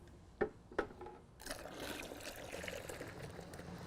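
Water poured from a container into a gallon of StrongSeal Wetlook sealer concentrate to dilute it one to one: two soft knocks, then a steady, faint gushing pour.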